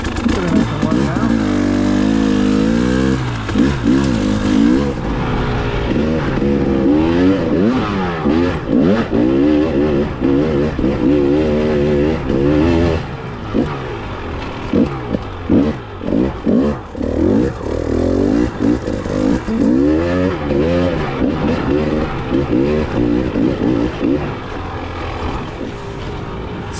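A KTM 300 TPI two-stroke dirt bike engine rides a forest trail, loud and close, its note rising and falling through repeated throttle bursts and shifts, with scraping and rattling from the terrain.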